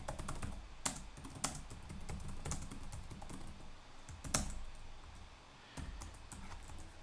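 Steady typing on a computer keyboard during a programming lesson, with continuous close key clatter under a low background hum and a few louder isolated key strikes; no talking.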